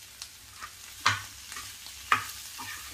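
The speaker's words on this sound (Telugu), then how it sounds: "ఇదంతా బాగా కలుపుకోవాలండి." An aloo bonda mixture is stirred in a bowl: soft, faint mixing with a few sharp spoon clinks against the side, spaced about a second apart.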